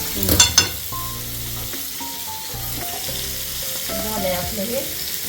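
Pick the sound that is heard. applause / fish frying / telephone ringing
fish frying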